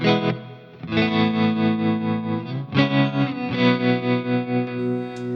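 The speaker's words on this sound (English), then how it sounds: "So I've got a tremolo." Sustained electric guitar chords through a tremolo effect on a Fractal FM3, with processed, wavering modulation and slight distortion, played in two long phrases with a brief break between them.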